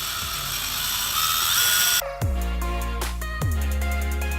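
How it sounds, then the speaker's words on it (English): Power drill boring a hole through a Dodge Charger rear spoiler during a wicker bill install: a steady whine, then a sharp stop and two short ratcheting bursts of the drill, close and loud. "I just drilled a hole in my perfectly good spoiler."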